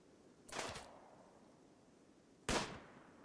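Two sharp bursts of submachine gun fire in RimWorld, a short volley followed by a quieter gap and a second loud burst, with no talking.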